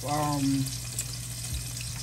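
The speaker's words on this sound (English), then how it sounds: "I'm frying some shrimp." Shrimp frying in a pan, a steady close hiss of sizzling oil with a brief tonal voice-like sound at the start, continuing on its own throughout.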